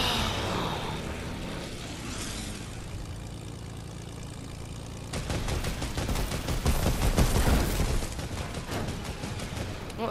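Rapid bursts of gunfire from a Fortnite match rattle in dense, repeated volleys over a steady background hum, growing louder in the second half of the clip.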